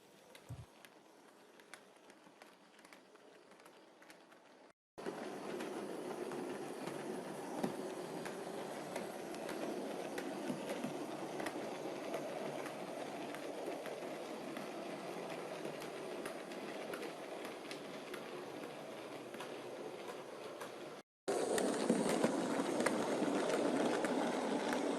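A Bachmann Class 03 model locomotive in NCP black livery runs steadily on a model railway layout, a soft continuous whirring rumble with faint rail clicks, close and even throughout, with no talking.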